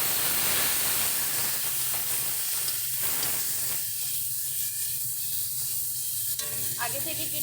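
Water splashes into a hot pan of spices and potatoes for a fish curry, bursting into a loud steaming sizzle that gradually settles into a softer hiss with a few stirring clinks near the end.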